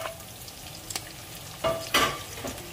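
Red onions frying in a pan give a low, steady sizzle, joined by a few scraping stirs and clatters of a utensil that grow louder near the end.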